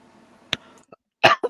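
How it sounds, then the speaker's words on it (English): A person coughs at close range: one sharp cough, then a pair of harsh coughs near the end, with faint room noise in between. "Why am I coughing?"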